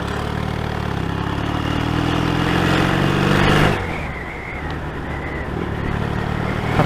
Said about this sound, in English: Fucking love the sound this bike makes.